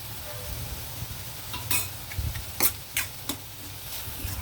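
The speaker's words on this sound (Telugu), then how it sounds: "ఆనియన్ బాగా ఫ్రై అయ్యాయి" Onions fry in a pan with salt and turmeric, a soft background sizzle with a handful of spatula scrapes and clinks against the pan, close and fairly quiet with no talk.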